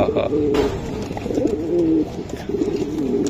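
Rare-coloured Pakistani pigeons coo close by in a series of soft, throaty, wavering calls that repeat with short gaps.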